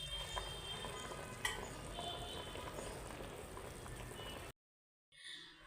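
Cauliflower curry gravy simmers in a pot, giving a steady, close bubbling hiss with small pops for about four and a half seconds before it cuts off abruptly and returns faintly.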